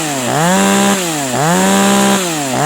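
A Vitals one-handed chainsaw engine runs after repair, revving up and down in repeated surges, close and loud, with no voices.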